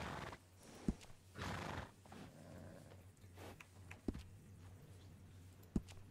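Horse in Red Dead Redemption 2 at a stable, giving a couple of soft whinnies and snorts amid hoof clops and sharp clicks, fairly quiet and heard alone.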